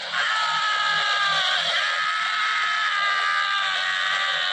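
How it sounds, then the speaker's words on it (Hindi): A man screaming loudly in terrible pain, one sustained, strained, high-pitched wail held at full volume for several seconds without a break. "साथ ही वो एक भयानक दर्द से तड़पते हुए जोर से चिल्लाने लगा।"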